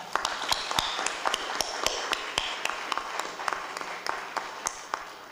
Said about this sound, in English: needs to be given a very sound round of applause for all they did to bring this event together